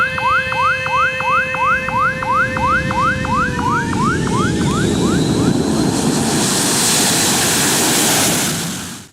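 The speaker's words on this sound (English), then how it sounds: "Planes are landing and taking off left and right" Airplanes land and take off beside an open, unfenced runway at a busy Indonesian airport: a loud, near engine roar swells and holds steady, preceded by a repeating warbling whine that fades out.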